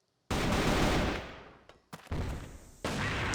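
Sustained burst of automatic gunfire sprayed in a Crossfire competitive match, loud and dense, fading after a second, then more shots resume in short bursts.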